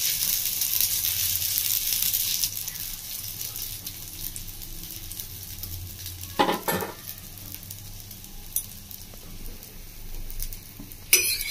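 Bread toast topped with vegetables fries in a pan with a steady, close sizzle, joined by a couple of sharp clinks and scrapes from a utensil against the pan, with no one talking.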